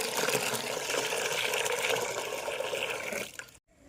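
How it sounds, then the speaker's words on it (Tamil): Water pours steadily and fairly close into a mixer jar holding ground urad dal husk, a continuous gushing splash that cuts off abruptly near the end. "இதுக்கு எப்படி பார்த்தாலும் ஒரு 5 லிட்டர் அளவுக்கு தண்ணி சேர்த்தனா கரெக்டாக இருக்கும்"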